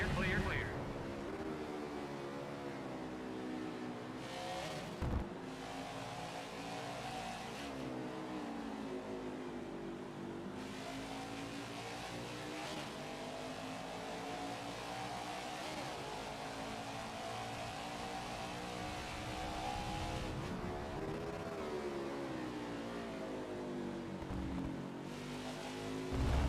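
Race car engines drone in a NASCAR 21 race at Watkins Glen, with one car's engine held in a long steady whine that rises and falls through gear changes. A voice talks intermittently over the engine.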